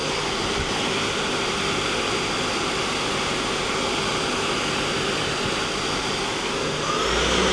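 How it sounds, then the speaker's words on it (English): The spindle of a Doosan Lynx 220A CNC turning center spins at about 2,000 RPM, a loud continuous broadband whoosh of rushing air with a steady hum, unbroken throughout. "Spindle's nice and quiet."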